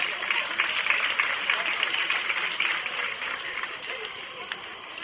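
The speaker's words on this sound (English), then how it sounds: "Let's give him a nice round of applause." Crowd applause for a placing at a county fair goat show, a sustained wash of clapping from many hands that holds for several seconds and slowly thins toward the end.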